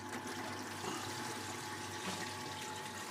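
Water draining from a 700 litre fish tank through an opened valve: a faint, continuous gush and trickle with a low hum beneath, steady throughout and with no talking.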